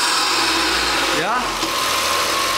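Turbocharger noise from the engine of a Smart 453 Brabus, held at low revs around 1200 to 1500 rpm, a loud continuous whine and hiss over the running engine with a short warbling pitch sweep.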